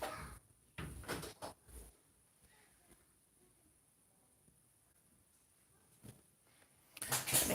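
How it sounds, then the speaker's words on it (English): Indoor room door being closed, several soft knocks and bumps in the first two seconds, then a quiet stretch, a single thud later, and a louder clatter at the end. "I'm just going to close my door again."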